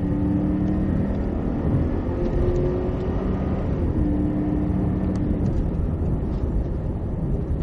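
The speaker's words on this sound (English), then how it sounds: "Squeezing on power. Full throttle over the hump." A race car on track goes to full throttle over a hump, its engine a loud, continuous rumbling drone with a faint rising tone, heard close with no voices.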